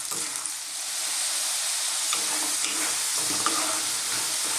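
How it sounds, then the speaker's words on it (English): Potatoes and mushrooms fry in a pan of hot oil with cumin seeds, a close, continuous sizzle and crackle with soft stirring scrapes now and then, moderately quiet and without talk. "keep moving them around in this pan. Nice hot oil with those cumin seeds"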